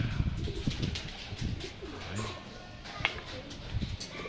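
Racing pigeons, a hen among them, arriving at a family loft, with soft cooing and wing flutters close by over low background rumble and faint voices.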